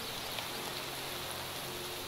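Rain falls in the Minecraft TerraFirmaCraft modpack as a soft, even, steady patter with a faint hiss, with no talk over it.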